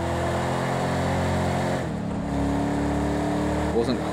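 A race car engine in the Project Cars 2 video game, lapping Silverstone, drones steadily at high revs, dips briefly with a gear change, then climbs again, loud and continuous.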